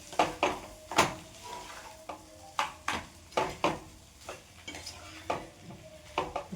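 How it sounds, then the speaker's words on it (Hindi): Food being stirred in a cooking pan, with a utensil scraping and clinking against the metal in irregular strokes, close and fairly quiet, over a faint background sizzle. "बस इसको चलाती हूँ।"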